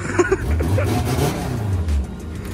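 A Volkswagen Scirocco R engine revs up close, rising and holding a deep, loud drone for about a second and a half before dropping off, with brief talk at the start.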